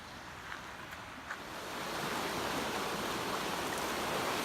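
Mission Creek in Kelowna, British Columbia rushes steadily over its bed, a broad continuous wash of flowing water that swells slightly louder partway through, heard close and alone with no voices.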